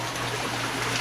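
Water pumped from a koi pond and gravity fed through a Vortex tank down to filter barrels makes a steady, close rush and trickle with no break.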